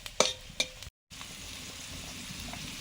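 Dried chilli and five-spice hit hot mustard oil and sizzle steadily, with a couple of sharp clinks near the start. After a brief silent break the frying carries on as a soft, even hiss.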